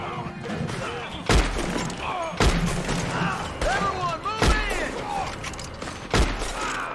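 Sharp, spaced gunshots ring out roughly once a second in the Western shooter Red Dead Online, each a punchy crack with a low thud, under frantic player chatter and game noise.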